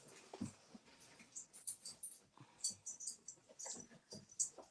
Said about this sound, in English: He's a big golden retriever.